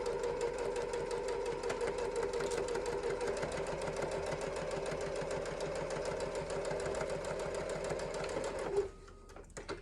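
A sewing machine runs a steady 3/8 inch seam in a fast, even mechanical chatter of needle strokes for several seconds, then stops with a few closing clicks.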